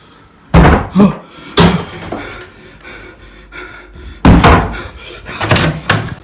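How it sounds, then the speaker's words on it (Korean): A closet door is shut with a solid thump, repeated in loud close impacts with a rattling follow-through, the last pair coming after a short pause with quieter handling noise in between. "옷장의 문을 닫고 나오자"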